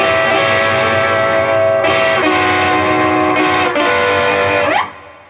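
Distorted electric guitar strumming a chord with vibrato, restruck a few times and shifted down by half steps, loud and sustained, ending in a sliding fall as the sound cuts off; no talking.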